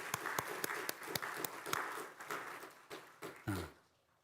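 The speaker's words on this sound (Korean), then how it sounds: "오늘 성가대 수고했다고 생각하시면 박수를 한번." Light, scattered clapping from a church congregation thanking the choir during a Sunday worship service, a few distinct hand claps that are fairly quiet and taper off after a few seconds.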